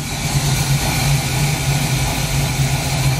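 A 1972 Pontiac Firebird Formula, just out of storage, idles steadily with a low, even rumble that holds loud and close throughout, without speech.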